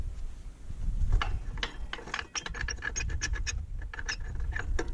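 Ratchet wrench loosening a big bolt on the snowblower mount of a Kubota B2601 compact tractor, rapid close clicking bursts of the pawl over a low rumbling background, with no talk.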